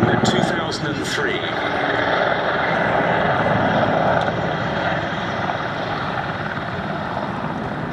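A Czech Air Force Mil Mi-35 helicopter at an airshow gives off a constant loud rotor and engine roar, heard throughout beneath an announcer's commentary.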